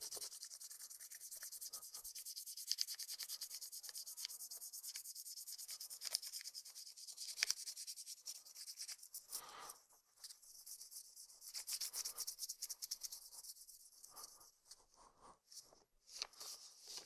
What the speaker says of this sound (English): I'm going to rub this with the pencil.